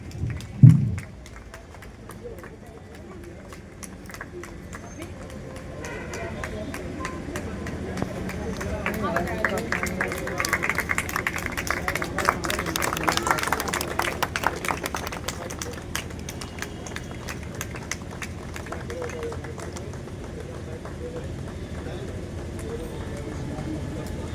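A live audience breaks into applause for an honored guest at a Hindi-language gathering, sparse claps building into a dense, sustained wash of clapping that runs steadily to the end.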